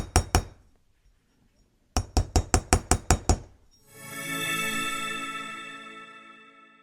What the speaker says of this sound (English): I'm going to take my nylon side of my hammer and I'm just going to hammer these out.